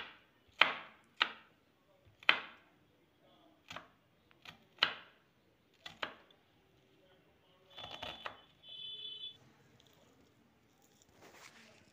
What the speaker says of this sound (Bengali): দুটো পেঁয়াজ নিয়ে পেঁয়াজ কেটে নিচ্ছি।